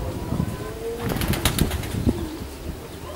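Racing pigeons circling over their loft on a windy race day, with faint soft flutters of wingbeats against steady wind noise in the open air.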